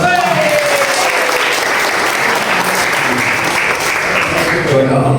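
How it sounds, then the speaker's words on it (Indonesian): An audience at an official regional religious affairs office visit applauds steadily, a loud continuous wash of clapping with voices faintly under it throughout. "Tepuk tangan"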